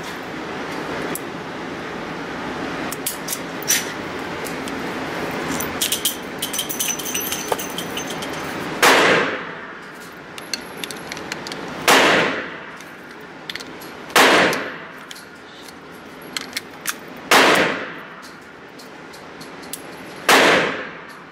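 Canik pistol shots ring out at an outdoor range, six or so loud sharp cracks spaced a few seconds apart, each followed by a short echoing tail, with faint clinks between them.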